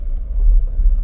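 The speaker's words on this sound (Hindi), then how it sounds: "तो देख सकते हैं गाइस गाड़ी चल पड़ी है" A car with a learner driver pulls away in first gear with the clutch eased out, giving a low, steady engine rumble that swells slightly as it gets moving, close and without talk.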